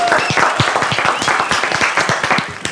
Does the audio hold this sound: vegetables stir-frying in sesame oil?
no